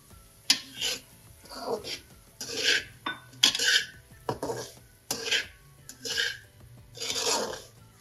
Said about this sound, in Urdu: اب اس کو آپ نے مسلسل ہلاتے رہنا ہے